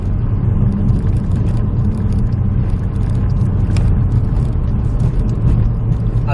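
The steady, loud engine rumble and road noise of a Ford Focus RS with a manual gearbox fill the cabin as it drives, without any noticeable gear change.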